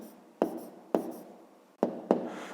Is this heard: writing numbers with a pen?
yes